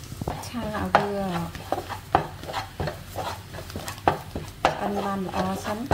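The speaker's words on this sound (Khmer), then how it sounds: "ឆាឲ្យវា" Squid is stir-fried with salted duck eggs in a pan, with repeated scraping and clanking of a spatula against the metal over a low sizzle, in an irregular close rhythm with faint voices in the background.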